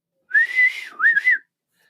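A single person whistles a short signal call during a tabletop fantasy role-playing session: a sustained clear tone followed by a dip and a rising two-part phrase, close and alone without talk.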